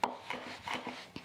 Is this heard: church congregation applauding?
no